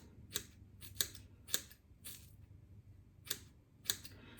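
Scissors snip straight across hair during an at-home ponytail layered haircut, six crisp separate cuts spaced about half a second apart, close and fairly quiet with no talking.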